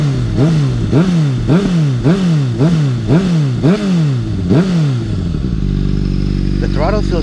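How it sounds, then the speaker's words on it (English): A 2013 Honda CBR600RR motorcycle engine revs in a series of about seven quick, rising throttle blips close by, then settles into a steady idle. "Let's do a little rev."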